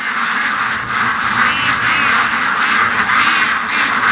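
A big group of ducks raised for charity quack continuously close by in a loud, overlapping chorus of nasal calls over steady wind.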